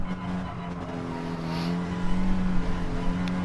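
A race car at full throttle holds a steady, droning engine note under high revs, growing slightly louder and rougher toward the end as it pushes hard in fourth gear.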